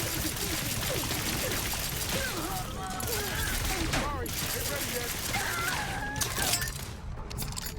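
Gunfire in The Outer Worlds 2 hits barbed wire, with a steady crackle of shots and metallic rattling over a busy combat soundscape. A voice speaks over the noise.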